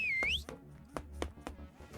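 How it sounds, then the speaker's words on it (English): A sharp, shrill finger whistle in the video game Helltaker opens the clip: a single rising-then-falling blast, followed by sparse percussive knocks and taps. "you stick your fingers in your mouth and whistle a sharp, shrill blast."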